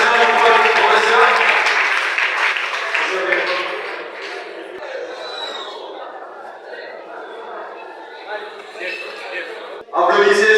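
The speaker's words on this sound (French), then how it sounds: "Applaudissez encore une fois de plus." An audience at a medical faculty competition applauds with dense, mixed clapping at the start. It fades under crowd chatter and a speaker's voice, and a short burst of sound returns near the end.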